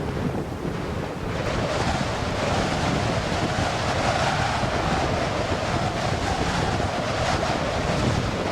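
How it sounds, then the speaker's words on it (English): Strong wind of about 80 km/h buffets a mountain pass in Torres del Paine, a loud, continuous roaring rush that batters the microphone and never lets up, with no voices. "we head up over a pass and encounter an 80-kilometre-hour wind heading our way"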